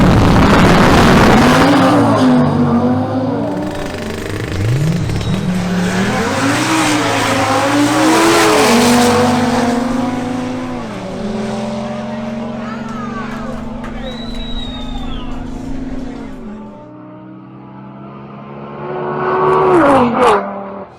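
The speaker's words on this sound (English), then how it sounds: "Maria Estrada's Audi RS3 against Pedro Mogollon's Audi RS3" Two Audi RS3 cars launch and drag race side by side, engines roaring loud and rising through repeated gear changes with rhythmic pitch sweeps, a brief tire squeal, then easing off before a final burst of revving near the end.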